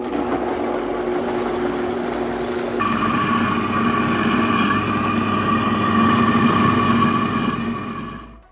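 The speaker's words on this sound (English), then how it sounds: "we're going to add the papaya fruit to a blender with all of its juices" A blender purees papaya with its juices and a splash of guava nectar for a tropical smoothie bowl, a steady loud motor whir that jumps to a higher, harsher pitch partway through and runs on continuously.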